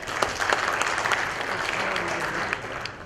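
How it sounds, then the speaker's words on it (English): An audience applauds to welcome a finalist at a presentation event, a steady roomful of clapping hands sustained throughout. "let's welcome him with his round of applause again."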